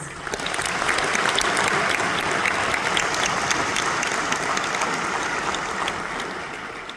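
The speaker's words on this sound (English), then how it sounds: "Graduates, let's give them all a round of applause." Sustained applause from a large graduation ceremony audience at a university, dense and steady for about six seconds before easing slightly at the end.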